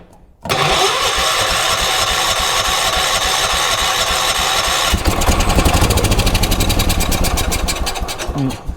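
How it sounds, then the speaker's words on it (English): A vintage 1980s UTV engine on choke cranks and catches, then runs loudly and steadily up close, shifting into a harder, faster-pulsing idle partway through, with no talk. "let's see if we can get it to keep running. And give it a bit more of a choke again."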